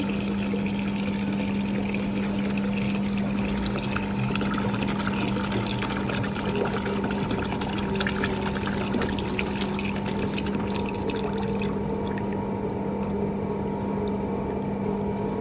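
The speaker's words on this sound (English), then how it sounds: "you need to flush out the warm water." Warm water is flushed through a Boston ice cream machine during daily cleaning. A continuous, loud rushing wash with a steady pump hum runs throughout, with no talking.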